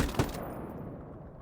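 A short, faint burst of machine gun fire in the World War II game Call to Arms Gates of Hell: Ostfront, heard as a quick distant rattle at the start that fades into low ambient battlefield noise.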